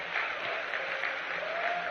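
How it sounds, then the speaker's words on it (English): A crowd cheering and applauding at a Charlie Kirk event, a continuous distant roar of clapping and cheers, moderately faint and steady throughout. "You hear that? They're all cheering."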